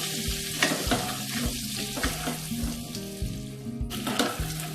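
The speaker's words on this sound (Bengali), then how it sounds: "এগুলো ভালো করে আলুর সাথে মিশিয়ে নিয়ে একটু সময় নিয়ে আলুটাকে ভেজে নিতে হবে।" Potatoes fry in hot oil with Kashmiri red chilli powder for a vegetarian aloo dum, a steady close sizzle with repeated stirring scrapes and clinks of a spoon against the wok.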